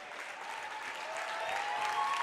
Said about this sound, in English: Woburn now subbing out most of their team to a standing ovation from the crowd